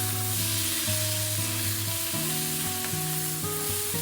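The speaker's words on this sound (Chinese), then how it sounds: "然后不停翻炒" Strips of pork belly are stir-fried continuously in a hot pan, a constant close sizzle with light stirring movement and a soft tonal drone beneath.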